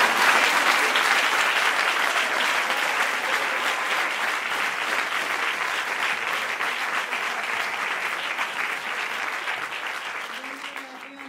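Sustained audience applause at a graduation gala, a dense crowd of clapping hands, loud and steady, slowly fading toward the end with no voices over it.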